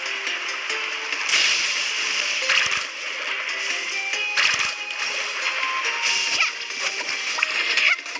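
Surfboard splashing and carving through water in Genshin Impact, a steady rush of game water sound with layered effects and music tones, bursts of louder splashes recurring every second or two throughout.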